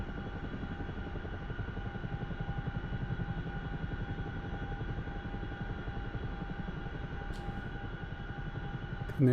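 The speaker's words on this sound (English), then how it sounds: "Can hear a helicopter outside now," A helicopter flying outside in the DCS World flight simulator, a steady, moderately loud rotor throb that holds through the whole stretch, with a brief sharp knock near the end.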